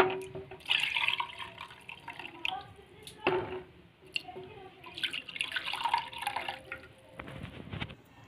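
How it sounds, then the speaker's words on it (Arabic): Milk is poured into clay pots for homemade yogurt, giving a soft, close liquid splashing and trickling that rises and falls in several pours, with faint voices in the background. "هنبدأ نصب اللبن"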